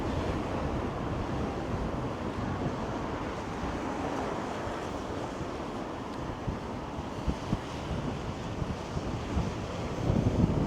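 Cold wind gusting across a Toronto street between Yorkville and Bay Street, a steady roaring rush with buffeting on the microphone that continues throughout and swells slightly near the end.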